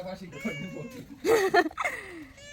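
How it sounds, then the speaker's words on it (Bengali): A cat gives a couple of short meows close by, with quiet speech around them. "শুধু ম্যাও ম্যাও করা শিখেছো?"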